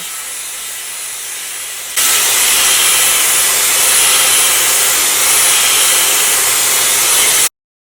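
A Dyson Airwrap on its highest heat and lowest power setting blows with a loud, steady whooshing hiss close by after a quieter start, running without talk before stopping abruptly.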